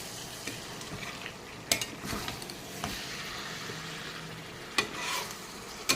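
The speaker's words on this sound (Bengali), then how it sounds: "এখন আমি আবার ঢাকাটা তুলে আমি এটা নেড়ে চেড়ে দেবো।" Meat being stirred in a pan over a low flame, with a steady soft sizzle broken by a few sharp scrapes and clinks of the spoon against the pan. No one speaks.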